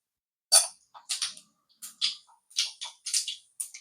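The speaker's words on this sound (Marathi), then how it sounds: "आपली मोहरी तडतडायला लागली" Mustard and cumin seeds crackling and popping in hot oil for tempering, sharp irregular pops in quick bursts, close and moderately loud with no talk.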